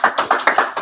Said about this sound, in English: let's give her a round of applause for being here